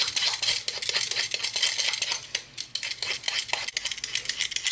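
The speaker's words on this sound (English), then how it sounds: "Quickly peel the pumpkin here." A knife scrapes and shaves along the skin of a fresh pumpkin in quick repeated strokes, close and crisp, with light clicks of blade on rind and no talking.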